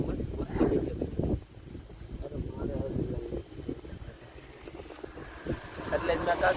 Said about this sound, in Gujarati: પવન એક નંબર હે.